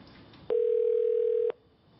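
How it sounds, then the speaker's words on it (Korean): A single steady ringback tone sounds while calling an official office phone, holding for about one second over a faint room hiss, then cutting off into quiet. "지금 신호가 가고 있는데요"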